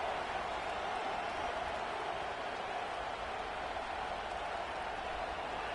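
A stadium crowd in the video game College Football 26 roars in a steady, loud, unbroken wash of cheering and noise that holds at one level throughout, with no clear voices standing apart.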